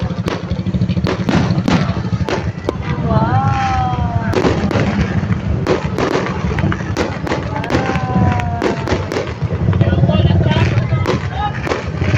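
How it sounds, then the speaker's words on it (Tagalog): Fireworks burst at the EVRAA 2026 opening ceremony in Baybay City, Leyte, heard from outside the venue as a steady run of sharp pops and bangs over a noisy crowd, with people talking throughout. "So dito ay nagsimula na nga ang fireworks dyan pero nasa labas na kami."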